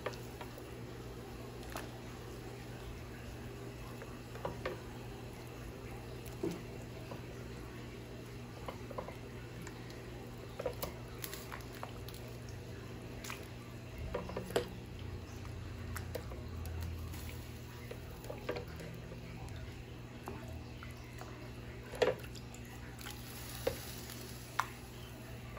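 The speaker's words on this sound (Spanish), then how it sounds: "como miren que el agua ya está hirviendo" Water boiling in a pot on the stove before chicken goes in to cook for Salvadoran panes con pollo, a steady low bubbling and sizzling texture with scattered faint ticks and clicks throughout, no talk.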